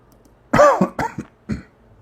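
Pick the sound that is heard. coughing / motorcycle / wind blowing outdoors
coughing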